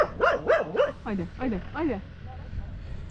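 A dog on a Himalayan trekking route near Sandakphu gives a run of close, wavering yelps and whiny barks over about two seconds, then falls quiet against faint background noise.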